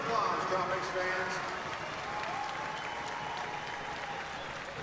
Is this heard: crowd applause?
yes